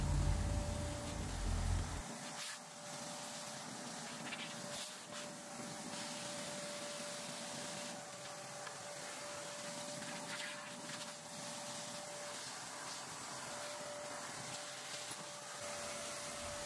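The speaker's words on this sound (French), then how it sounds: "Pour le moment j'utilise aspirateur pour bien nettoyer et la brosse comme ça" A steady, faint vacuum cleaner whirr runs throughout as a Viessmann boiler is cleaned with the nozzle and brush, with scraping and rubbing textures over the constant suction hiss.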